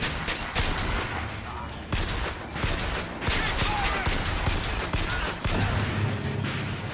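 Video game gunfire in BioShock Infinite: rapid bursts crackle repeatedly over a dense, noisy background, with sharp shots clustered in volleys, fairly loud and continuous.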